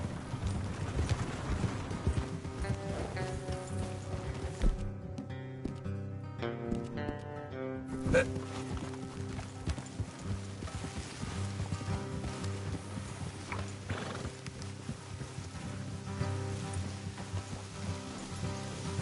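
Horses walking along a trail in the video game Red Dead Redemption 2, their soft steady clip-clop running under continuous ambient game sound and a faint music bed for the whole stretch.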